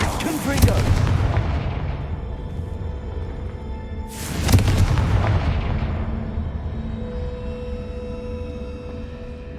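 Two loud booming fire-spell explosions from Confringo in Hogwarts Legacy, about four seconds apart, each a sharp blast trailing into a long rumbling decay, with a voice casting the spell.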